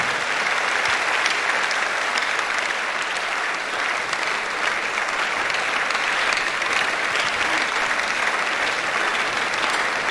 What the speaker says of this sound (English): Keep clapping until she gets here.